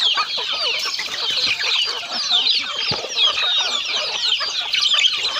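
A flock of chickens, including laying hens, clucking and chattering nonstop, many overlapping calls close by, with a busy farmyard feel on a mixed farm that also keeps cattle.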